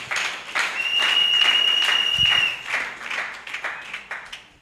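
A church congregation claps and cheers in praise, a dense, sustained wash of applause filling the room, with voices and shouts mixed in before it gradually thins out.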